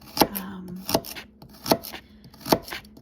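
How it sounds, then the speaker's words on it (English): Baby carrots are chopped on a cutting board, four sharp, evenly spaced knife strikes with faint handling sounds between them, close and without talk. "I just chop them"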